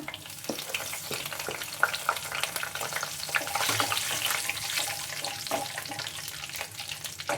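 Whole spices (cinnamon, cloves, cardamom, fennel and bay leaf) sizzle steadily in hot oil for paneer matar masala, a soft continuous frying hiss with occasional clinks and stirring scrapes, no talking.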